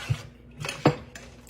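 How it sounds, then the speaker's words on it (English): A spoon stirs tomatoes in a cooking pot for tomato gravy, giving a few sparse metallic scrapes and clinks against the pot, close and fairly quiet. "I'm going to stir it around"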